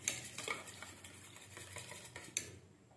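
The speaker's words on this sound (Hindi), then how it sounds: "मिक्सर की हेल्प से अच्छे से इसको फेंट लेंगे।" Eggs for a masala omelette are beaten with a mixer, giving quiet, close, rhythmic clinking and swishing against the bowl for a few seconds.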